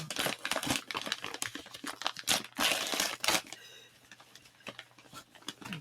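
A paper-wrapped package is ripped open by hand, with loud crinkling, crumpling and tearing bursts in quick irregular runs that tail off into softer rustles, and brief voices mixed in.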